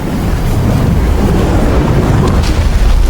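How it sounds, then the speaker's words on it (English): A meteor storm in the demolition game Teardown, set against the Titanic, gives a loud, continuous low rumbling roar, like heavy wind or distant thunder, with no talk. "Now what you can do is you can fire meteors"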